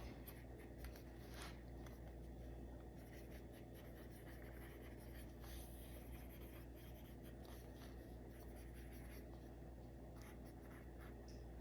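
Pencil scratching across the pages of a paper planner, a steady close scribbling texture that runs continuously, alone with no talking.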